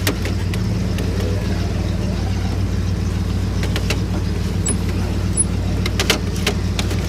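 A 1965 Ford Galaxie with a manual shifter and no power steering drives along, its engine a steady low rumble with road noise heard from inside the car, plus occasional light rattles.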